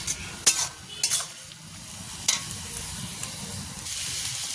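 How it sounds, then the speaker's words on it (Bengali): Leafy saag greens are stir-fried in a pan, with a soft steady sizzle under a few sharp scraping clinks of a spatula against metal, close and without speech. "শাক ভাজাটা আমার হয়ে গেছে"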